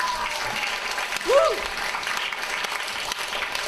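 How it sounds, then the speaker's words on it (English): Audience applause at a fall conference fills the room with steady, dense clapping throughout, joined by a brief shouted cheer near the middle. "let's give a round of applause to the ones that are still standing up"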